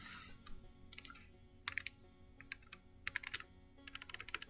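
Fingers type on a split computer keyboard in quick irregular bursts of crisp clicking keystrokes, close and clear with short pauses between flurries.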